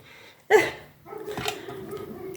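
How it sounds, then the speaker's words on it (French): A single dog bark sounds from outdoors, muffled and somewhat distant, followed by faint indistinct noises at home. "il y a mon chien qui aboie dehors"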